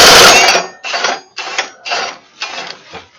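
An impact wrench works on a Wright ZK61 mower that hit a stump, one long loud burst followed by four shorter rattling hammering bursts with brief pauses between, close up.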